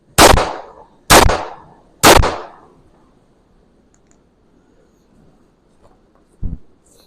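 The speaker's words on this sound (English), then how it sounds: "Oh, there's my third shot." A single-action cowboy revolver fired at a shooting range: three loud, evenly spaced close shots about a second apart, then quiet and one smaller sharp knock.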